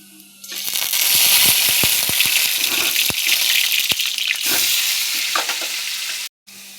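Spice paste goes into hot oil with black cumin seeds in a kadai, setting off a loud, close, continuous sizzle full of crackling sputters that runs for several seconds before cutting out briefly near the end.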